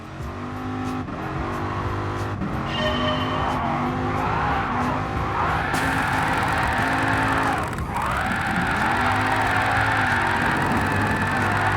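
A Dodge Viper GTS drifts in Gran Turismo Sport, its engine revving loudly and rising and falling through gear changes while tires squeal and skid almost continuously.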